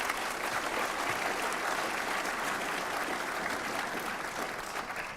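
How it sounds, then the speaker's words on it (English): Steady, dense audience applause at an elevator pitch competition, a continuous wash of many hands clapping at moderate volume that tapers slightly toward the end. "So how about a nice round of applause for those?"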